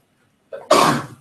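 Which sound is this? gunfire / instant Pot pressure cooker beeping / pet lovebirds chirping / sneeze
sneeze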